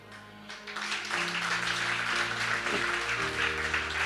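Applause and clapping in praise during a church worship gathering, a broad, steady wash of many hands filling the space from about half a second onward, with tonal sound underneath.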